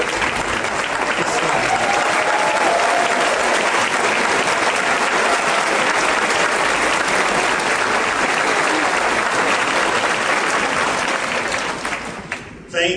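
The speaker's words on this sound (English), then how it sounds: "including Principal Sonia Gordon, please stand so we can applaud your work." A large audience at a teacher of the year ceremony breaks into sustained applause, dense and loud clapping rolling on for over ten seconds before tapering off at the end.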